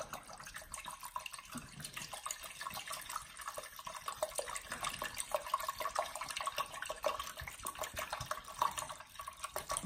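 Water runs steadily from a tap into a cooking pan to make homemade gravy, a continuous close splashing pour lasting the whole stretch with no talking.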